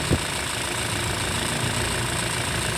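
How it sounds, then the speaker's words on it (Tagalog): The air-conditioning compressor of a Toyota Hilux runs as a steady, continuous engine-like drone. It holds the same level throughout, with no voices. "At syempre, ito na yung ating compressor."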